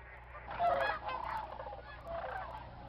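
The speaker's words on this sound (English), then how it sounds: "the birds once again head out to feed" Sandhill cranes at Bosque del Apache in New Mexico call out in honking, trumpeting cries as a flock leaves to feed, faint and somewhat distant, a few overlapping calls over a soft background.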